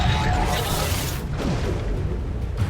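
A Reductor spell blast in Hogwarts Legacy sounds as a loud, dense booming explosion that hits at once and rumbles on for a couple of seconds, covering the whole range.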